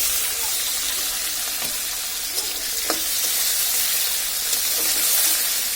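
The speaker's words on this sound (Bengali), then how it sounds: "এই চিংড়ি মাছগুলো এখন আমরা দিয়ে একটু হালকা ভেজে তারপরে মশলাগুলো এর মধ্যে দিয়ে দিব" Prawns fry in a pan with a steady, close sizzle and hiss, broken by a few small pops and stirring clicks, no voices.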